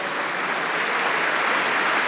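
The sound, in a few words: audience applause in a church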